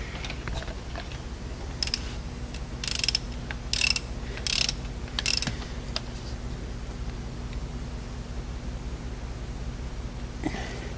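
A wrench ratchets several short bursts of clicks as a fitting is tightened on a Cummins ISX engine during an oil bypass circuit update, close and fairly quiet over a low steady hum.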